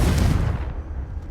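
A single Confringo spell blast from Hogwarts Legacy thuds out as a short, deep boom that fades quickly, moderately loud with no talking.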